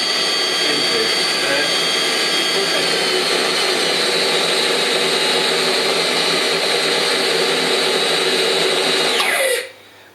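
A food processor whirs at high speed, mixing pasta dough of flour and eggs in a loud, steady mechanical drone that runs unbroken for several seconds before cutting off abruptly near the end.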